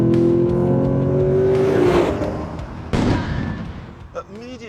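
A GSF car engine revs loudly and builds toward higher revs, with sharp bangs partway through and a brief quieter stretch near the end.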